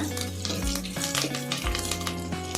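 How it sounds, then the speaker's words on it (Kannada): Curry leaves and dried red chillies sizzle steadily in hot oil in a pan, a close, continuous frying crackle with faint stirring and utensil clinks and no talking. "ಸ್ವಲ್ಪ ಇದನ್ನೆಲ್ಲ ಫ್ರೈ ಮಾಡ್ಕೊಳ್ಳೋಣ"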